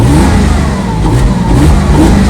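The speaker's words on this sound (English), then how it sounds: "You just give it a little throttle. You just hear it pulling in air." A 2000 Porsche Boxster S engine with over 200k miles revs hard up close, a loud roaring growl with an audible rush of air being drawn in as the throttle opens.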